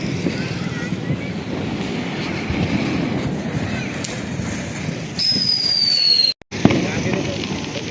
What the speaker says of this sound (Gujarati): જો ફટાકડા ફોડે જોરદાર